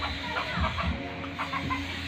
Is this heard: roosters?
yes